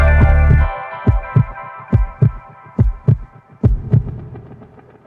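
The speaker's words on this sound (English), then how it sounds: "That heartbeat going forever, don't it?" A heartbeat sound effect plays during a music production session, a steady series of loud, deep double thumps repeating at an even pace over a sustained humming chord bed, with no voices.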